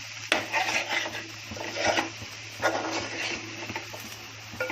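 Dry shrimp fry in a pan with a continuous close sizzle and crackle, mixed with occasional scraping and stirring clatter of a utensil against the metal. No one speaks.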